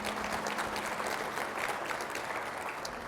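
A conference audience at a small business finance forum's opening plenary gives a sustained round of applause, a steady wash of many hands clapping at even loudness throughout.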